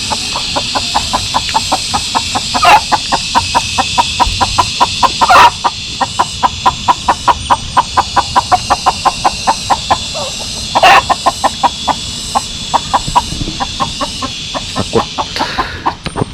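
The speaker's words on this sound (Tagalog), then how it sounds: "may manok." Chickens clucking close by in a rural yard with rusting tin roofing, a rapid steady run of sharp clucks with a few louder squawks, no speech.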